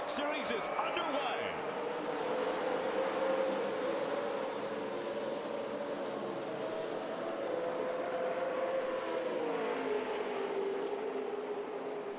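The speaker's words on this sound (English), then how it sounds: "Hearing those motors fire up and take the green flag at Daytona." NASCAR Camping World Truck Series engines roar together at Daytona in 2009, a continuous loud droning pack with a rising and falling pitch, heard under crowd noise and an announcer talking.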